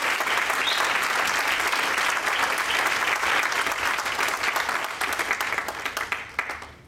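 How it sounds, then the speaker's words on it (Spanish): A church congregation gives a loud, sustained round of applause, the thick clapping continuing strongly before tapering off into scattered claps near the end. "Y quisiera que le demos un aplauso al Señor por ellos."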